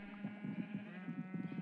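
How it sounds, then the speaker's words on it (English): Minecraft sheep bleat in quick, quavering calls that overlap several times across a short stretch, close and fairly clear against a quiet background. "Hopefully those sheep are not too loud, because in my ear, they're annoying"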